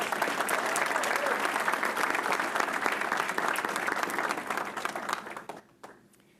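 A hall of board meeting attendees gives a sustained round of applause honoring 25 years of service, dense steady clapping that fades out near the end.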